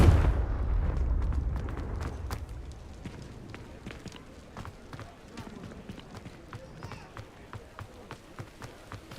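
A Confringo blasting spell in the game Hogwarts Legacy, a loud booming explosion that rumbles and decays over a couple of seconds, followed by rhythmic running footsteps.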